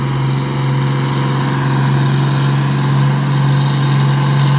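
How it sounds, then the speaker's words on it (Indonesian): Convoy of orange trucks on a winding hilly road, a steady loud engine drone with a strong low hum throughout, close and continuous with no speech. "Ya, rombongan truk pus oren."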